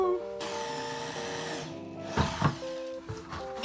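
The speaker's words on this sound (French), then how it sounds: "comme ça fait du bruit, une perceuse" A power drill whines in tonal, shifting pitches at home during a plant repotting job, running steadily and then breaking into short bursts and rattles; no talking is heard.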